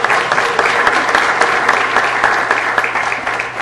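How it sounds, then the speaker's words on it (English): A council meeting room fills with a round of applause for youth commissioners, steady clapping from many people throughout, with faint talk beneath. "give yourselves a big round of applause too"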